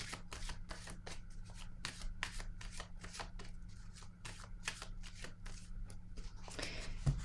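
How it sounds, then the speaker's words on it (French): Tarot cards are shuffled and drawn in a quick, steady run of close crisp riffling flicks, with no talking. "Je vais piger une autre carte."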